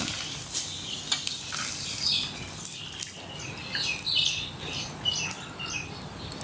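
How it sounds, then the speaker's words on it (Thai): Rice noodles for mee krob frying in hot oil give a steady, dense crackling sizzle with scattered sharp pops, close and fairly loud throughout. "เดี๋ยวทอดให้เสร็จก่อนนะครับ"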